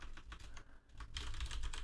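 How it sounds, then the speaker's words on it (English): A short burst of quick, light keystrokes taps on a computer keyboard, close and fairly quiet, with an irregular rhythm and no voices. "I can type in first name,"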